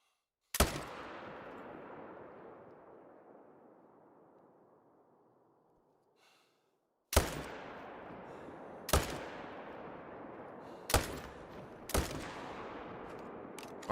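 A hunting rifle fires in theHunter: Call of the Wild during a mule deer hunt. One sharp, loud shot rolls out in a long fading echo, then after a pause four more shots crack in quicker succession, each with a short tail.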